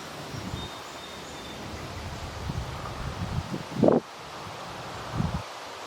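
Strong stormy wind with gusts reaching 85 miles per hour blows around a farmhouse, a steady rushing roar with rustling bursts and one sharp gust-like swell near the end, with no talking.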